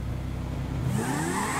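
A supercharged Kawasaki H2R motorcycle engine in GTA V revs hard, its pitch climbing steadily after a low idle in a loud, sustained whine with no talk.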